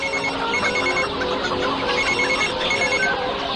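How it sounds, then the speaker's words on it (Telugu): Telephone ringing in a Telugu comedy film scene, a steady electronic ring repeating throughout, fairly loud against a busy background with no talk. "ముందు మీ నాన్నగారికి ఫోన్ చేయి."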